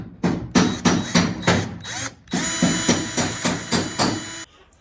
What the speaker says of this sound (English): I've got my drill, just to drill these rivets out